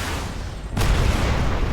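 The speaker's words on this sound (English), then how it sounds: "And the helicopter goes down." In a video game, a helicopter is shot down: a steady background rumble is broken by a sudden sharp blast that swells into a loud, sustained low roar.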